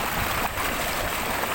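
Water pumped by a 5 HP motor pump on a farm, gushing forcefully into a tank as a loud, steady, broadband rush that continues without a break.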